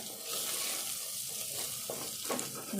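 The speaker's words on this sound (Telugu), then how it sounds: "శనగపప్పు కూడా కొద్దిసేపు వేయించుకోవాలి" Chana dal is fried in a pan with a continuous soft sizzle and light stirring scrapes, quiet and close, with a few slightly louder scrapes near the end.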